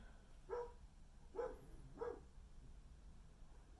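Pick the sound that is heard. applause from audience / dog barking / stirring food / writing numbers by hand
dog barking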